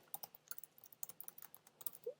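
Quiet, rapid clatter of typing on a computer keyboard, with irregular bursts of sharp close key clicks.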